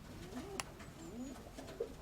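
Pigeons or doves cooing softly at a distance, a few low rounded coos spread across a short stretch with faint background noise.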